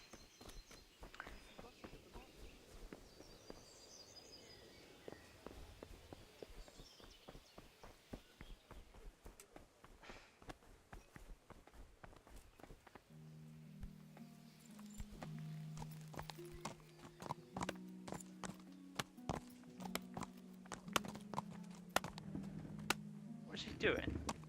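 Steady clip-clop of horse hooves walking at an even pace in Kingdom Come 2, fairly faint, with a low droning tone joining partway through.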